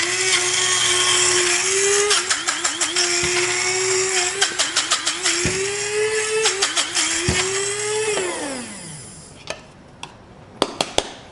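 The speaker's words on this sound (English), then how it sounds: "loading the spice grinder is going to help it move around. This is going to make a little bit of noise." Electric spice grinder chopping garlic, ginger and sea salt, a loud steady motor whine with rattling pieces and repeated clicking bursts, winding down near the end, followed by a few sharp clicks.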